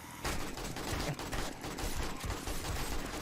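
A newly acquired gun fires on Horde Night in the zombie survival game 7 Days to Die: a loud, dense barrage of rapid shots that runs steadily through the whole stretch, close and with no voices.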